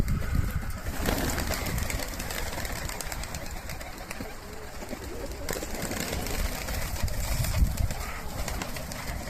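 Pigeons cooing steadily while being fed, under a constant background hum, with occasional flutters and rustles close by.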